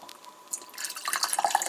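Grapefruit drink, PC Cola Ruby Red Grapefruit, poured into a cup, with a faint trickle that builds into a brighter stream of splashes and drips over about a second, close and alone.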